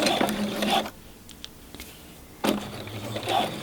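Sewing machine stitching fabric for a travel snack bag, two close, loud mechanical runs of rapid stitching separated by a quiet pause while the fabric is pivoted.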